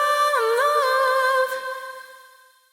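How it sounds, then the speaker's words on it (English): A bright, high-pitched tone sent through a big, larger-than-life Lexicon LX480 reverb with the bass multipliers turned down: a sustained, glassy tail with a wobbling pitch that rings loudly, then slowly decays over the last second. "you end up with this high and larger than life sounding reverb that sounds like this"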